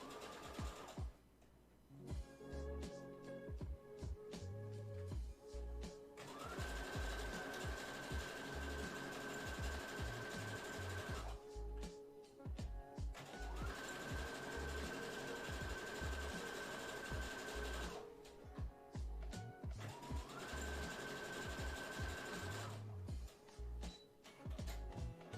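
Sewing machine stitching cosplay fabric, a steady close mechanical whir and rapid needle chatter running in long bursts with brief pauses between them, no talk.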